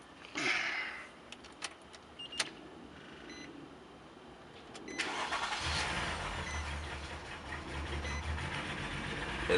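A 2007 Nissan Murano with a fresh battery, cranked and started: quiet beeps and key sounds, then at about five seconds the engine catches and settles into a steady, fairly loud idle with no voices.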